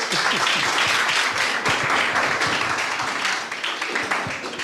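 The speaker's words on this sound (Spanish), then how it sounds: "Pueden aplaudir si quieren." Steady applause from a church congregation fills the whole stretch, dense and continuous, with a few voices faintly underneath.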